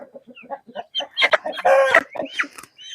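Chickens cluck repeatedly and a rooster crows loudly in the middle, with scattered bird calls close by, in a poultry yard with hens, roosters and ducks.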